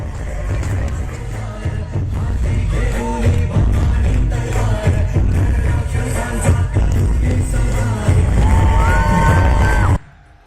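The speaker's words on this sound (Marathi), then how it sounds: "फटाक्यांची आतषबाजी करत जल्लोषही करण्यात आलेला आहे" Firecrackers burst in quick, sharp bangs over a noisy crowd at the Shiv Jayanti celebration at Shivneri Fort, with cheering and yelling filling the air throughout.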